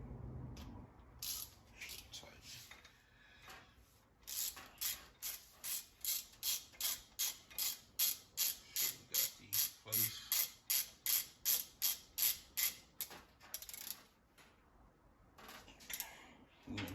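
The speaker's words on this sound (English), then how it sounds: "So we're gonna tighten these up now. These are gonna take a 14 socket." A ratchet with a 14 mm socket tightens bolts during a supercharger and serpentine kit install on a 1968 Camaro, giving a long, even run of some twenty quick clicking strokes, fairly faint, with a few scattered mechanical taps around it.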